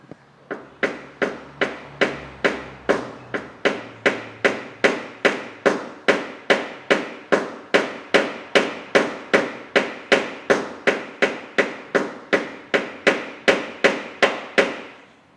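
A hammer strikes a wooden block held against a dented car panel, about forty sharp, evenly spaced knocks in a steady rhythm, close and loud, with no talk.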